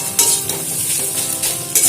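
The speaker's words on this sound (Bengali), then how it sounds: "আর বারে বারে নাড়াচাড়া করে এটাকে রান্না করতে হবে।" Grated mankochu (giant taro) paste with turmeric cooks slowly on a low flame in a pan. A soft, steady sizzle runs under a few scraping stirs, close and fairly loud.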